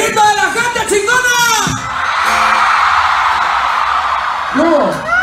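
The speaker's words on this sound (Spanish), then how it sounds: "¡El grito de la gente chingona!" A concert crowd at a show in a plaza roars and shouts in a sustained, loud wash of noise. A man yells over it at the start and end.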